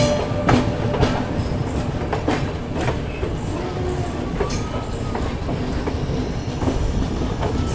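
An Indian passenger train on the Delhi line heading toward Delhi Cantt rolls past with a loud, steady rumble and repeated clickety-clack of wheels over rail joints, with occasional sharp squeals.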